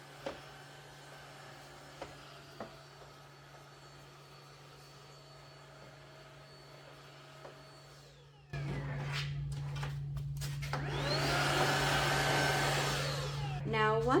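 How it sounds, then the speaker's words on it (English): A vacuum cleaner running inside a Glowforge Aura laser cutter, starting abruptly after a faint hum with a few light clicks and then continuing as a steady close whoosh with shifting suction tones. "slide this out of the way so we can vacuum back there as well"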